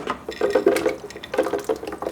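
Water being poured into a blender jar while a beet smoothie is made, a steady splashing pour that swells and eases over about two seconds, close and fairly loud, with no talk.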